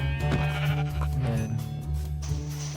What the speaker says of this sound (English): Oh my god, there's sheep.